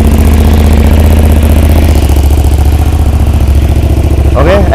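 A 2013 KTM SMT990 Supermoto motorcycle engine running at a loud, close, steady idle with a rapid throbbing pulse, a brief mechanical clatter near the end.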